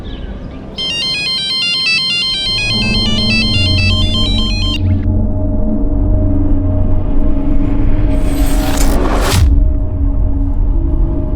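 A phone ringtone plays a repeating electronic melody for a few seconds over a low, steady rumble, followed by a brief whooshing sweep.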